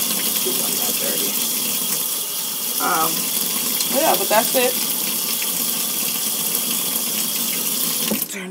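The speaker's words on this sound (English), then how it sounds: "Turn the water off." Tap water runs steadily into a sink while makeup brushes are rinsed, a loud continuous close gush with a brief rinsing splash, as a voice talks briefly over it.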